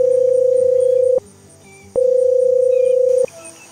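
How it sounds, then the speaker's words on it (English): Outgoing FaceTime call ringing: two long sustained electronic tones separated by a brief pause, loud and near, with quiet background between. "let's see if he'll answer a FaceTime"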